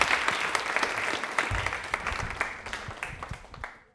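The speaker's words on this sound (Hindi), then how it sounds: "तालियां प्लीज एक बार आकांक्षा मैम के लिए जोरदार होनी चाहिए" An audience claps to welcome a guest doctor onto a Women's Day television panel show in Rajasthan, a brisk burst of applause that stays fairly even and then thins out, heard moderately loud with no speech over it.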